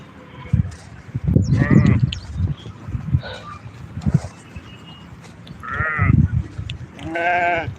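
A flock of sheep gathered while grazing, with several loud, close bleats rising over a rustling background and bursts in a few uneven clusters.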